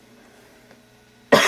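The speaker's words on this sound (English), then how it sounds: "I have a terrible cough." A man with a bad cough lets out one sudden, loud cough close to the microphone after a near-silent stretch with only faint room hum from an old Macintosh SE computer.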